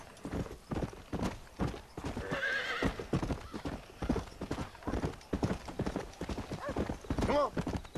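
Horses' hooves clip-clop steadily with a whinny or two in the video game Red Dead Redemption, mixed with voices talking over the scene.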